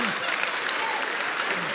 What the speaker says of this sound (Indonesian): tepuk tangan buat Ridwan Remes.